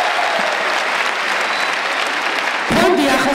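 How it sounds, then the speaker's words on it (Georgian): A concert audience at a charity event applauds the organising foundation, with loud, sustained clapping that swells near the end as the crowd's cheering rises. "ძალიან გთხოვთ აპლოდისმენტები მათ"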